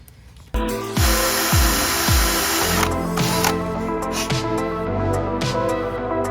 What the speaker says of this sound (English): So we just drilled a hole